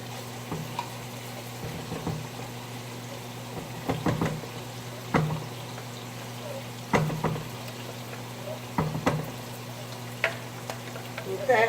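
Browned ground beef with chili sizzling in a frying pan, a soft steady fry punctuated by several sharp clanks and scrapes of a utensil against the pan.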